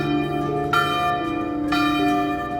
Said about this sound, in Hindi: उसी समय गांव के मंदिर की घंटी अपने आप बज उठी